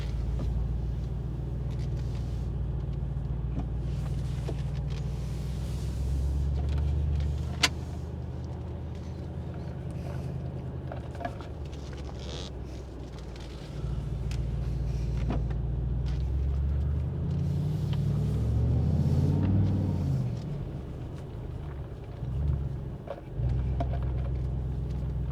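A Mercedes-AMG G63 in Sport Plus mode pulls away with a deep, steady engine rumble that swells into a louder surge toward the end, heard from inside with no talk.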